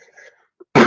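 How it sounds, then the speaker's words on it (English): A single short, loud cough at the very end, up close. It comes after a brief stretch of faint, quiet sounds. "Always have a cough when I start recording."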